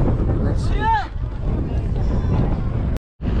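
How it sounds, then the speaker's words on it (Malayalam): Strong wind roars and buffets steadily against the microphone on the hilltop at Ramakkalmedu, a loud low rumble that cuts out briefly near the end. "എന്തായാലും കാറ്റുണ്ട് ഇവിടെ നിന്ന് കാറ്റടിച്ച് തുടങ്ങി"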